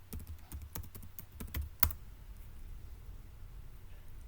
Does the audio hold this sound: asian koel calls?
no